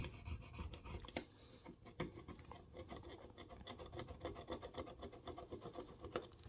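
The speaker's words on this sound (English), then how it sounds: "I just go over the edges with the tool" A small tool scrapes leftover adhesive off the frame edges of a Samsung M12 phone, producing quiet, rapid rasping strokes in a steady rhythm, close and faint.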